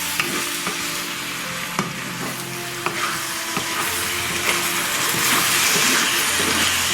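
Lamb bhuna cooking in a pot, being stirred, makes a steady sizzle with occasional scraping knocks; the sound is close and continuous and no one speaks.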